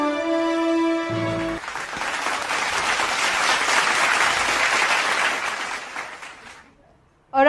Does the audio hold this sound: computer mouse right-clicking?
no